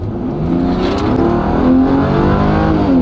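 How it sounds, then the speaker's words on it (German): A Mercedes C36 AMG from the 1990s, six-cylinder engine, accelerates hard on kickdown from about 30 km/h, a loud, close, rising engine roar heard from inside the car, with no talking. "Ich will jetzt nicht aus dem Nullpunkt, damit das Auto nicht so getreten wird, sondern ich fahre jetzt mal so 30. So, und jetzt mache ich einen Kickdown."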